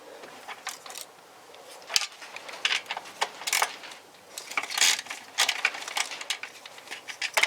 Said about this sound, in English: I'm going to take the other fuel rail bolt off right there